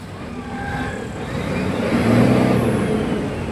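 A 6.7 diesel truck engine with a low-power fault and non-working injectors runs steadily up close, then swells into a louder rev around the middle and eases back slightly, with no talking.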